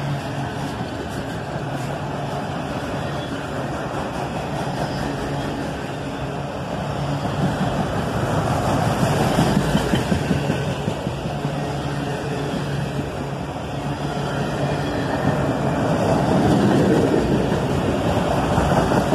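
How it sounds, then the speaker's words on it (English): Diesel locomotive, an ES44AH, hums steadily while moving a loaded coal train, a broad continuous rumble that swells slightly midway and stays fairly loud throughout with no voices. "a second locomotive humming away to keep the train moving"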